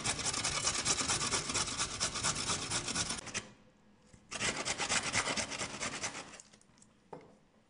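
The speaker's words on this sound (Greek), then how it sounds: "Καθαρίζω και τρίβω το καρότο από τη χοντρή πλευρά του τρίφτη." Carrot rubbed hard against the coarse side of a metal grater, a loud continuous rasping scrape in two long bursts separated by a brief pause, with a short final stroke at the end.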